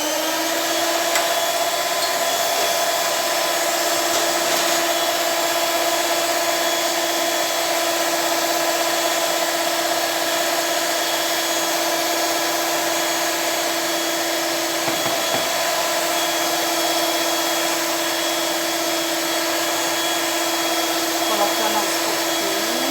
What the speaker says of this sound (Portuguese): Aí eu vou ligar a batedeira e vou colocando aos poucos